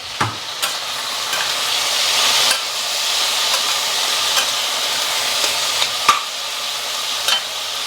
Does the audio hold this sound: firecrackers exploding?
no